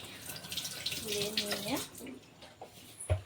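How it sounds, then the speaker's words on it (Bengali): A mango is rinsed under a running tap, splashing water swirling and dripping nearby, faint and uneven, with a short knock near the end. "আমটাকে এবার ধুয়ে নিয়ে"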